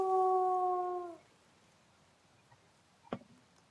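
A loud, close wolf howl from the Wolf Quest video game holds steady for about a second and then cuts off. A faint quiet stretch and one brief soft thump follow.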